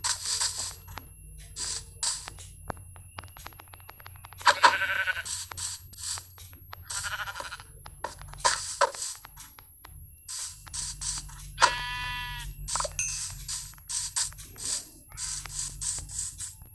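In the video game Minecraft, sheep bleat in short, separate cries scattered across the scene, with a louder wavering bleat near the middle, set among soft clicks and quiet gaps.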